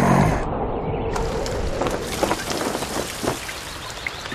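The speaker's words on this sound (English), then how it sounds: "Looks like rain." A steady hiss of falling rain in the 2001 PC game Winnie the Pooh Baby, with scattered drops pattering on surfaces, fairly loud and continuous, with no voices.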